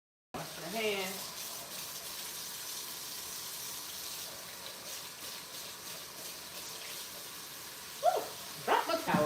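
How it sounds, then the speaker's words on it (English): A kitchen or bathroom tap runs steadily while hands are washed under it, making a close, constant gushing hiss that lasts several seconds, followed by a few splashes and clatters near the end. "So, wash my hands."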